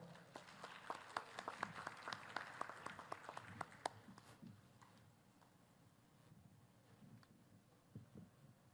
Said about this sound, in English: Ladies and gentlemen, a warm applause to Ms.